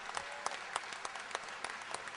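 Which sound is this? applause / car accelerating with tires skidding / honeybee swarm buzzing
applause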